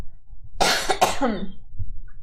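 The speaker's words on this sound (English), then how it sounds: "Sorry, I got a little cough." Two quick, harsh coughs close to the microphone, followed by a brief rasping exhale, with no talking.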